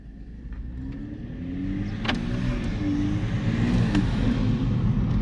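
A 2021 Toyota Supra A91 engine with a CTS turbo intake rumbles steadily and climbs in pitch as it revs, growing louder and closer over a few seconds.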